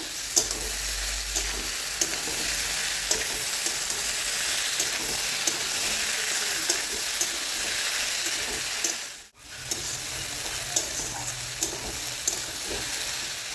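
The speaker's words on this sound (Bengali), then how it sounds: "দিয়ে দেবো আগে থেকে ভেজে রাখা ভেন্ডিগুলো সাথে দিয়ে দেবো ভেজে রাখা আলু" Pre-fried okra and potatoes being stirred together in a hot pan, steady sizzling with scraping stir strokes, close and continuous, with a brief drop near the end before the frying resumes.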